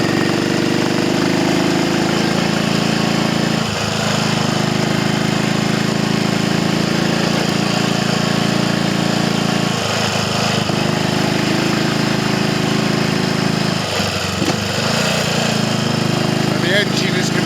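A vintage Triumph Tiger Cub motorcycle engine runs steadily in second gear with a loud, rough drone, pulling under light throttle, with a few brief dips in the roar along the way.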